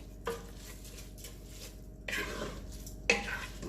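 Rice and pigeon peas for arroz con gandules are stirred in a pot over a medium-high flame, giving three separate spoon scrapes against the pot over a faint steady hum, with no talk.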